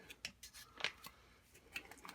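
Scissors snip the top off something while making hard cider, giving several faint, quick crisp cuts scattered across a couple of seconds, with one slightly sharper snip near the middle.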